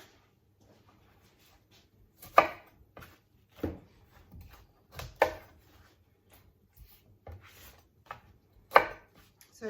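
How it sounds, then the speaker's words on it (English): Sharp knife chopping stringy rhubarb stalks on a board, a handful of crisp, separate cuts spaced a second or two apart, close and fairly quiet with near silence between strokes. "to dehydrate rhubarb, you can literally just chop it and put it straight into the dehydrator"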